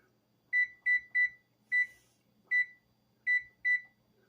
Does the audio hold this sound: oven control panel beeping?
yes